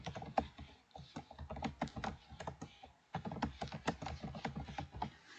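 Rapid typing on a computer keyboard, including a Ctrl+A shortcut, during a Korean word-processor exercise: dense, close keystrokes with a brief pause midway.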